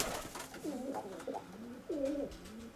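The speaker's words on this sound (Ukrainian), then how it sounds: "Зараз я спіймаю цю голубку." Pigeons coo in a cage with rings being handled, several low rolling coos in sequence, fairly close over faint background rustle.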